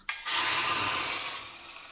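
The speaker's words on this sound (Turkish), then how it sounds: "şimdi çorbamı ilave ediyorum" Yogurt soup poured into a hot pan bursts into a loud, steady sizzling hiss right after a brief splash, staying strong and slowly easing over two seconds.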